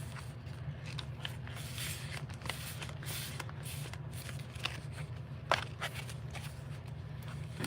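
Paper pages of a lace-bound Christmas journal being folded and creased one after another, with soft rustles and light crackles over a steady low hum, close by.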